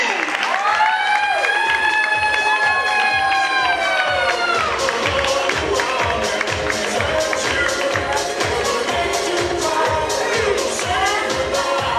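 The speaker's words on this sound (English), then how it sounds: "So big round of applause for Ree and Nandini." Applause and cheering from a reception crowd, loud and steady throughout with rhythmic clapping and shouts over a background of voices and music-like tones.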